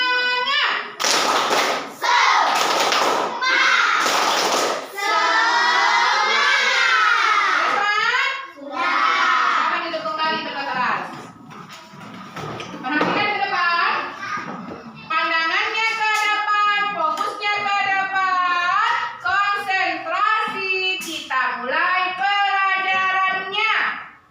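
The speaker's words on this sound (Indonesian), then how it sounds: "Tepuk semangat." A classroom of children performs a rhythmic spirit clap, bursts of clapping and thumps alternating with loud chanted and shouted voices.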